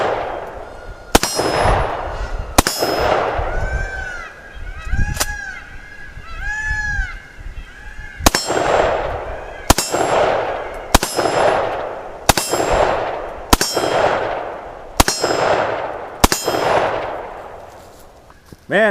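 Sharp metallic clangs ring out roughly a dozen times at a steady, unhurried pace as rifle bullets hit a half-inch AR500 steel plate target, each hit followed by a brief ringing tone.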